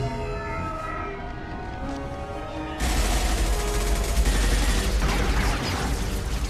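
Gunfire in Mass Effect 2 erupts suddenly after a tonal, siren-like stretch, becoming a sustained loud barrage of shots and booms with no voices heard.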